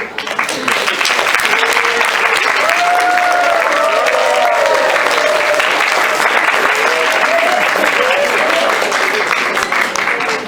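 An audience at a university World Speech Day event applauds loudly and steadily for a speaker, dense continuous clapping with some cheering voices mixed in throughout.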